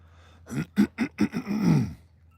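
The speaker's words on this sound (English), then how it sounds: "So now I sound like dad every time I clear my throat." A person clears their throat in a short series of rough, rhythmic hacking bursts ending in a longer gravelly rumble, close and fairly loud with no talking.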